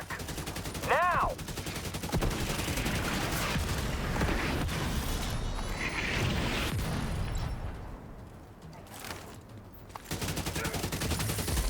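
A mortar strike in a video game lands amid constant battle noise, heavy booming and rattling fire rolling on for several seconds, then dipping briefly before the din resumes loud and close.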